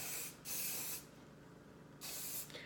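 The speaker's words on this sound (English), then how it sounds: "I'm gonna spray it." Three bursts of hairspray hiss in close succession, each a steady broadband spritz lasting about half a second to a second, with quiet gaps between.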